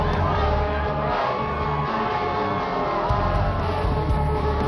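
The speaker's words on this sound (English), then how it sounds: "Back to the blaring horns and loud crowd here at Crescent Valley High School Field" A loud crowd cheers and shouts at a women's college ultimate frisbee championship final on a high school field, with horns blaring in a dense, sustained roar heard close up.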